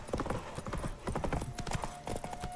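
Horse hooves galloping in The Witcher 3, a fast, loud, steady clip-clop of hoofbeats in close succession, with a sustained tone and other game sounds running underneath.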